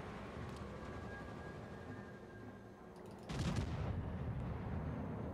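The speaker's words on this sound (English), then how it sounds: "Main guns. A little all over the place, but we do get one citadel at least" Naval gunfire from a battleship's main guns in a World of Warships-style game with the German ship Admiral Schröder: a steady low rumble, then one loud, deep boom from a salvo at about three seconds, rolling on afterwards.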